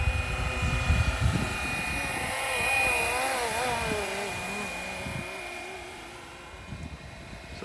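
A small Flywing Bell 206 V4 RC helicopter's rotor whines and buzzes steadily, pitch wavering as it hovers at moderate distance, with faint thumps and outdoor noise beneath.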